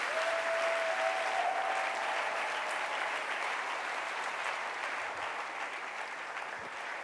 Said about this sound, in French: Acclamons son nom.